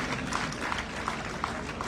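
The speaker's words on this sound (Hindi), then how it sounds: "जोरदार तालियां।" Broad, steady applause from a crowd fills a police retirement ceremony for Uttarakhand DGP Ashok Kumar, moderately distant and continuous with faint uneven claps throughout.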